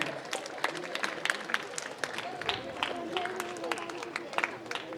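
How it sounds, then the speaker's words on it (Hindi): Loose, uneven clapping from gathered students at a school alumni meet, welcoming the principal and vice principal, with individual sharp claps standing out over a murmur of voices at moderate volume. "जोरदार तालियों से प्राचार्य महोदय एवं वाइस प्रिंसिपल सर का स्वागत करें।"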